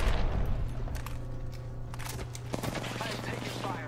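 Rapid bursts of automatic gunfire from an Apex Legends match in an arena mode, dense shots rattling over a steady low game hum, with a few sharper single cracks near the end.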